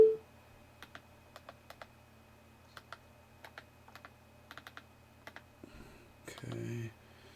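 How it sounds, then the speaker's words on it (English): Keys tap on a wireless computer keyboard, about twenty light, separate clicks in uneven bursts close by in a quiet room, followed by a short rustle at the end. "I actually have to turn on the wireless keyboard."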